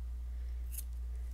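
Scissors make one quick, crisp snip close by as they trim yarn on a knitted stuffed fish, set over a low, steady background hum.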